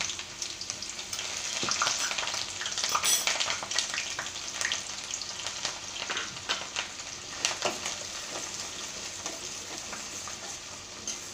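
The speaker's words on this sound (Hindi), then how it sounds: "अभी हमारा तेल गर्म हो गया है। इसमें कांदा डाल देते हैं।" Chopped onion sizzles and crackles in hot oil on a tava for Mumbai-style pav bhaji, a dense, steady frying hiss with scattered pops and occasional stirring scrapes, close and continuous throughout.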